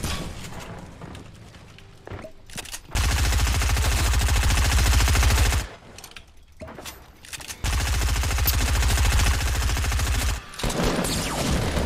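Submachine gun fire in a video game: dense, rapid bursts of automatic shots in long sustained volleys, broken by brief pauses, loud and close with no talking.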